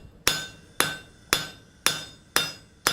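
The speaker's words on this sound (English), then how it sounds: "I'm going to use the peen of my larger hammer on the inside face" The peen of a large hammer strikes a hot steel fleur-de-lis scroll while hand forging: five sharp, ringing metallic blows at an even rhythm, about half a second apart, close and loud.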